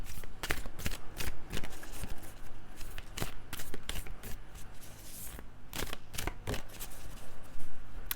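Animal spirit cards for a tarot reading are shuffled by hand in repeated quick riffles and slaps, a crisp close-up flurry of card noise with short pauses between bursts and no talk.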